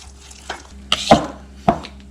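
Minced meat and herbs are worked together into capuns filling for Swiss chard dumplings, giving a few short, separate scraping and clacking strokes against a quiet background, with no talking.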